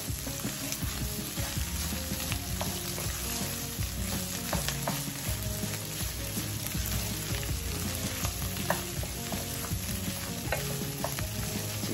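Shrimp curry fried rice sizzles steadily in a hot pan for the whole stretch, with frequent scraping and clinking stir strokes layered over the constant loud frying hiss.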